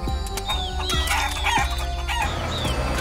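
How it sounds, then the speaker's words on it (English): Cartoon farm chickens cluck and squawk in quick, close bursts over a busy bed of background music and effects. "feeding the chickens"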